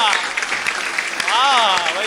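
Applause from the audience at a Hindi hasya kavi sammelan (comedy poetry gathering), a broad clapping wash that runs the whole time beneath someone speaking over it.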